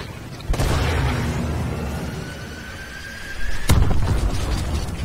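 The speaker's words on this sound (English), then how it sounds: "I have a Predator missile or whatever it is." A Predator missile strike in Call of Duty: Advanced Warfare lands with a booming blast and rolling rumble, followed by a second sharp impact and continued battle noise.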